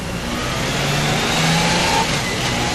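A Honda Gold Wing motorcycle accelerating up to 40 km/h, its engine note rising smoothly under a steady roar of wind and road noise, close and fairly loud, with no voices.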